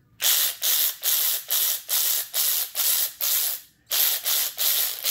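A ratchet wrench with a 3/8 inch socket clicks in a rapid, loud, close rhythm, about ten quick bursts of ratcheting with one short pause partway through, with no voices.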